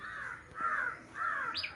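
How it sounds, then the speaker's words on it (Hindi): A crow caws three times in steady succession, harsh nasal calls that are loud and close, with a brief higher chirp at the end. "कौवा काँव काँव करते हुए लीली और लीलू से कहता है"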